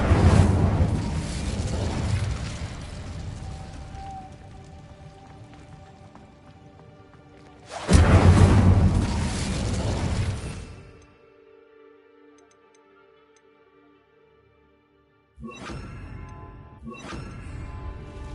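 A fire spell cast in the video game Hogwarts Legacy gives a loud burst of crackling, roaring flame that fades over several seconds, with a second blast and later short bursts amid game sounds.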